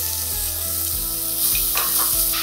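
Chopped onion sautéing in hot oil with garlic for a calabresa sausage filling, a close, constant sizzle that swells slightly partway through, with a low, regular background hum.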